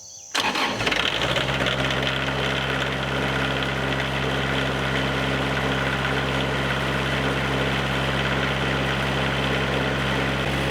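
A diesel machine fitted with glow plugs cranks and catches after sitting unused for a couple of weeks. It then settles straight into a loud, steady idle that runs close and uninterrupted, with no talking.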